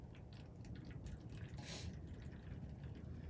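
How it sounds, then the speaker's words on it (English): Water trickles and splashes steadily into a container, a soft continuous pour with faint dripping, no voices. "pour your 3/4 cup of water into your bottle"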